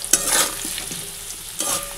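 Bay leaf and whole cumin seeds tempering in hot oil for a Bengali fish curry with cauliflower and potato, giving a soft, steady sizzle with a few stirring scrapes and brief crackling bursts, close and alone without voices.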